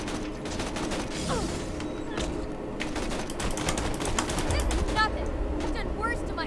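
Rapid bursts of gunfire in Borderlands 2, a fast clattering fusillade of shots rattling on through the scene alongside game sounds and occasional chirpy effects.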